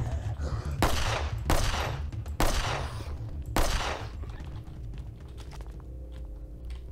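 Gunfire in The Last Stand: Union City video game: four loud, sharp shots spaced about a second apart over a low steady background hum, followed by quieter ambience.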